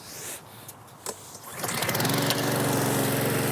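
A traditional Honda petrol lawn mower starts up after some quieter handling, then settles into a loud, steady engine drone with a constant buzzing whine for the rest of the clip.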